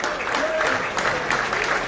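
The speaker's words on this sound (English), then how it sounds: "Getting a round of applause." Crowd at an Elginshire Cup Final football match between Fraserburgh United and Hall Russell United clapping for the referees and team, a brief, steady patter of applause with faint voices underneath.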